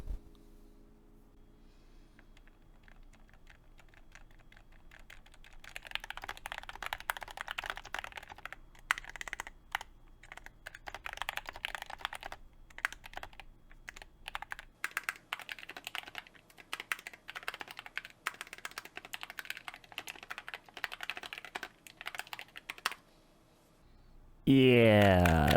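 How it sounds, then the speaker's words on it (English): Rapid, uneven typing on a custom keyboard with ceramic keycaps and an aluminum plate, hard clacky keystrokes, mostly continuous with brief pauses, close to the listener; a short voice cuts in at the end. "if I could type with them, would it at least sound good?"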